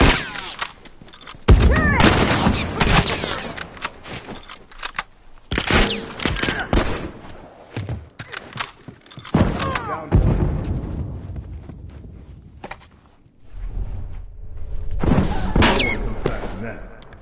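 Dense video game firefight with loud bursts of rapid gunfire and a heavy grenade blast, rising and falling over about seventeen seconds while players call out to each other over the action.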